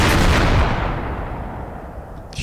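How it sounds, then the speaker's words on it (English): A heavy, booming blast from an H-bomb launched in the game Gmod, starting loud and broad then decaying into a long rumbling roar that fades slowly over a couple of seconds, with no talk. "shooting off bombs left and right."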